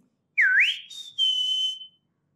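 A person whistles in imitation of a bird's sharp call: a rising swooping note followed by a long steady high whistle, loud and close against near silence.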